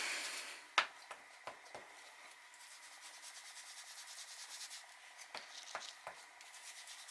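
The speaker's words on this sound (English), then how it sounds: "let's try using an ink blender" Soft, steady rubbing of an ink blender tool on paper with embossing powder and distress ink, a quiet continuous scuffing broken by a few brief taps and knocks, close up with no talking.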